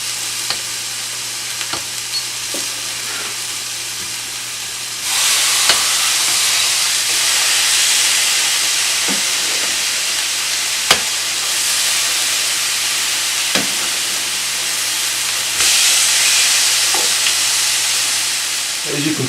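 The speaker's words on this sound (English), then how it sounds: "I want it to be really, really hot for this meat. I want it to get a really good sear." Skirt steak sears on a very hot griddle with a loud, continuous hissing sizzle that swells louder partway through, broken by occasional faint clicks and taps.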